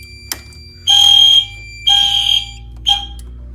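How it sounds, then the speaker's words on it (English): A two-stage fire alarm system triggered from a key station sounds three loud electronic horn blasts, two long and a last short one, with a steady hum between them. "if I were to just simply go up to the key station and activate it, it would just activate the alarm automatically"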